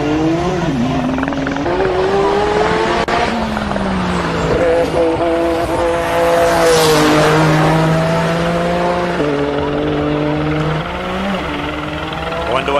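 Scribante's wildly modified Nissan GTR roars up a hillclimb course, its loud engine rising and falling through gear changes with a shifting tone, and a commentator talks over it the whole time.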